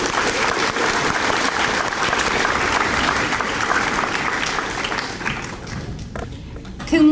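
A high school awards audience applauds students with sustained, dense clapping that gradually thins and tapers off toward the end, followed by a brief thump.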